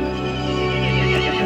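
A horse neighs in the Resident Evil Village video game, a loud, sustained whinny filling the short clip with steady harmonic tone and no talk.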